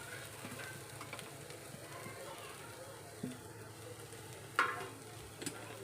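Grated bitter gourd with fresh coconut sizzles softly in a pan, with faint stirring scrapes and a couple of sharper knocks, quiet and low under a speaking voice.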